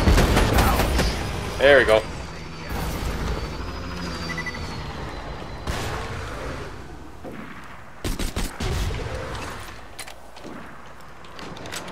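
Borderlands 2 gunfire bursts amid loud game effects and a dense mix of clatter, with someone talking briefly over the action.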